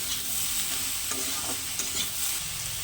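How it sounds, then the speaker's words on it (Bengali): Ridge gourd sautéing with spices in a pan for a rohu fish curry with potato, giving a steady close sizzle with a few soft stirring scrapes and no voices. "দেখুন মশলার সঙ্গে ঝিঙেটাকে আমি সুন্দর করে কষে নিয়েছি"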